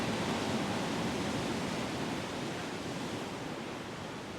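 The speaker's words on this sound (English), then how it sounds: "You might even allow the sounds of the waves in the background" Soft, steady wash of ocean waves in the background, a continuous, even hiss of surf with no distinct breaks and no voices.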